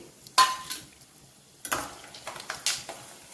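Urad dal is tipped into hot oil in a pan for mango rice, giving bursts of crackling sizzle and stirring scrapes, the first burst strongest, then more spread over a few seconds.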